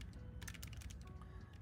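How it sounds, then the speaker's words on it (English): Clicky mechanical keyboard keys being typed on in a fast, steady run of crisp clicks, close up and alone, with no talking. "have a little listen of the product here in terms of how the keys sound"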